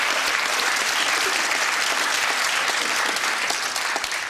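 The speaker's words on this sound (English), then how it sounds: "Round of applause, surely." A television game-show studio audience applauding, a dense, even burst of clapping that runs steadily throughout at close range before fading slightly at the end.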